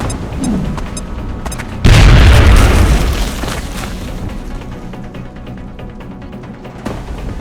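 A grenade explodes in the video game XCOM: Enemy Unknown. A single loud, deep boom hits suddenly and then rumbles and fades over several seconds, after quieter game ambience.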